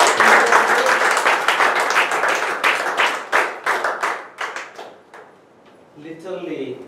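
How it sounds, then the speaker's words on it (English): At a Toastmasters meeting, a small audience claps loudly, then the clapping thins into scattered individual claps and fades, followed by a voice speaking. "Can we have a loud round of applause?"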